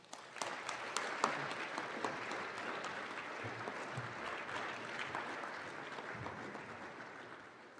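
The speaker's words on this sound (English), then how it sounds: "I wish him congratulations with a round of applause" A graduation ceremony audience at Alexandria College applauds an award winner with sustained, steady clapping from many hands. The sound stays fairly even and moderately loud for the whole stretch, with no talk over it.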